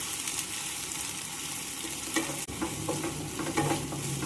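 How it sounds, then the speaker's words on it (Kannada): Grated raw mango fries in a pan with a soft, steady sizzle while a spoon stirs and scrapes through it in irregular strokes, close and fairly quiet, with no talking. "ಈಗ ಮಾವಿನಕಾಯಿ ಹಾಕಿ ಹುರ್ಕೋಬೇಕು ಇದನ್ನ ನಾವು ಚಲೋದಾಗ."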